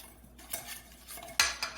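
Spoon stirring pancake batter with sugar in a mixing bowl, a few scattered clinks and scrapes against the bowl, fairly quiet and close with no voices.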